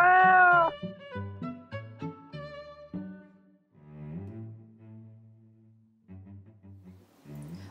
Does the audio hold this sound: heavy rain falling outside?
no